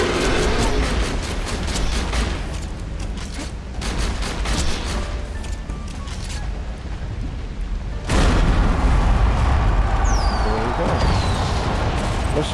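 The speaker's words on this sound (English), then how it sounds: "A gun I'd recommend using is the conference call, as this just shoots pellets everywhere" Conference Call shotgun in Borderlands 2, spraying pellets in dense, continuous bursts of game gunfire and booms that fill the whole stretch and grow louder near the end, with a voice talking over it.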